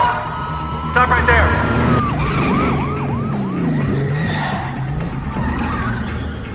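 A police siren wails in rising and falling sweeps over engine roar and tire skids during a street race, with excited voices shouting over the loud chase.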